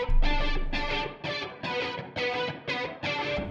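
Distorted electric guitar with a chorus effect playing an octave-up part in a rock style, rhythmic chugging chords in repeating bursts, loud and upfront with no voices.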